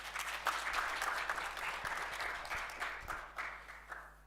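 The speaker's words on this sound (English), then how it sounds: "Please give yourself a round of applause." An audience at a youth coding initiative launch ceremony applauds steadily, a dense wash of many hands clapping at moderate distance that holds throughout with slight swells.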